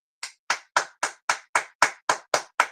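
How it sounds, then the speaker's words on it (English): Ten sharp, evenly spaced hand claps ring out at a steady rhythm, each crisp and close, with no crowd or talk. "Let's give her a round of applause."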